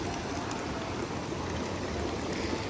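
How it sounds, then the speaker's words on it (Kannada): Steady, continuous splashing of a running drinking-water fountain in a Swiss village, a close and even wash of water with no pauses or voices. "ಇಲ್ಲೇ ನೀರು ತುಂಬ್ಕೋಬಹುದು ಕುಡಿಯೋ ನೀರಿದೆ"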